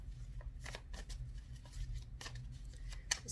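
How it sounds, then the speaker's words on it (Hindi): Tarot cards being shuffled by hand, quick papery riffles and flicks in several short bursts, close and quiet, with no talk over them. "ये कार्ड आया है, देखिए आपके सामने शफल किया"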